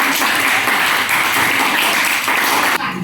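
Students in a junior high school Indonesian-language class applauding for group C; dense, loud, continuous clapping from many hands filling the room for about three seconds before cutting off.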